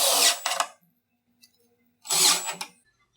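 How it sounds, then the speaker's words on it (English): Cordless power drill driving screws into a pyro firing system rack, heard as two separate loud whirring bursts of about half a second each with a brief quiet gap between them. "To do so, we take some screws and we will put 2 screws into the rack."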